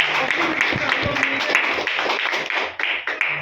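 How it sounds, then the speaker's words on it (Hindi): A meeting audience claps loudly together, a dense wash of hand claps filling the room with speech mixed in throughout. "सभी लोग जोरदार ताली बजाइए"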